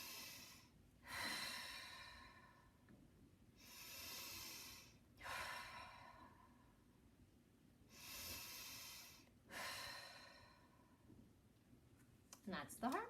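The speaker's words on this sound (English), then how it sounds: "And then I take 3 deep breaths." Four slow, deep breaths drawn in and let out during a quiet heart meditation, close and soft, each a long airy swell with pauses between.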